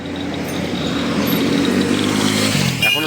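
A motorcycle engine idles steadily nearby with a low, throbbing rumble, its pitch shifting slightly near the end.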